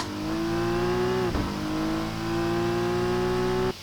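A race car at Daytona holds a loud, steady engine note that dips briefly and then climbs back toward full throttle before cutting off abruptly.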